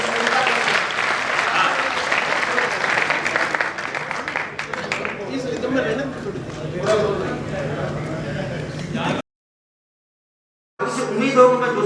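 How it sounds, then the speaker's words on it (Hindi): Audience applause at a Hindi hasya kavi sammelan comedy poetry show, a dense sustained clapping crowd filling most of the clip before a brief silence, then resuming with a voice over it. "मित्रों गीत थोड़ा सा ठीक लग गया और एक बार तालियां बजाए"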